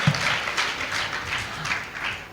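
A church congregation at a Sunday service claps loudly in a hall, rapid overlapping hand claps in quick pulses, continuous and close, with faint voices underneath.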